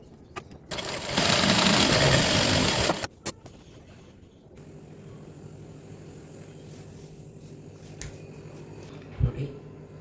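Sewing machine stitching a line along a kurti with lace attached at the sleeves, a loud steady burst running for about two seconds near the start, then quieter background hum and movement.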